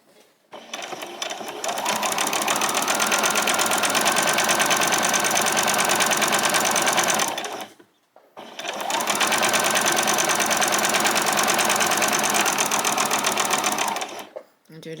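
A sewing machine stitching an apron runs in two long, steady bursts of rapid mechanical stitching separated by a brief pause, loud and close, with no talk over it.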